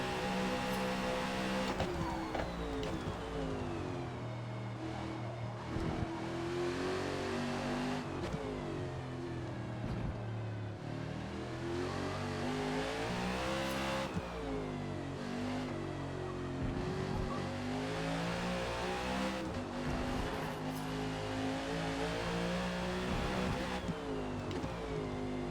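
A NASCAR stock car in Forza Motorsport at Mid-Ohio Sports Car Course drones steadily at high revs, its engine pitch rising and falling with throttle changes and shifts, loud and continuous with no talk.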